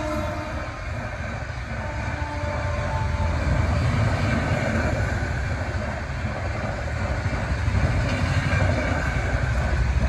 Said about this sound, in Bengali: তো ট্রেন আসছে দেখো।